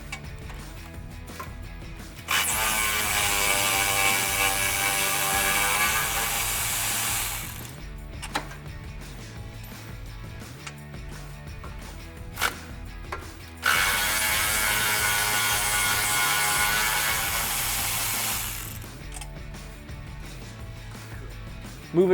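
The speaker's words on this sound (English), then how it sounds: "I'm going to take my 13 mil socket on my ratchet, remove those bolts" A ratchet with a 13 mm socket removing exhaust hanger bolts on a 2015-2017 Mustang GT, two long bursts of rapid clicking, loud and close, separated by quieter handling sounds.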